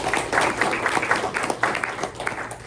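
Audience at a press luncheon claps for a short burst of about three seconds, a moderate patter of hands in a room with no talk over it.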